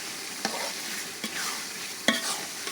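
Beef with turmeric powder cooking in a pan over a clay stove, a soft steady sizzle broken by a few scraping stirs of a spoon; no one speaks.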